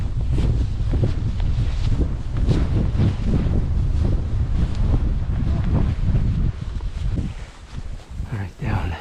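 Wind gusts buffet the microphone on a hike toward a waterfall in Guam, a loud, uneven rumble of low-frequency bursts that rises and falls, with people talking through it.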